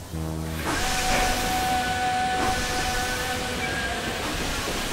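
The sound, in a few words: train passing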